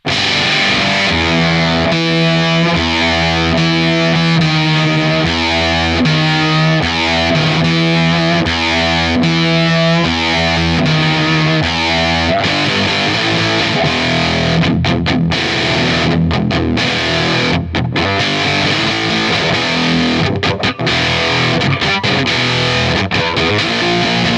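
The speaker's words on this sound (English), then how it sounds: "pretty much all the distortion you're hearing is from the pedal" An electric guitar plays through a LOE Sounds Super Fuzz pedal, thick and saturated, with sustained chords giving way to choppier, gritty riffing, loud and continuous.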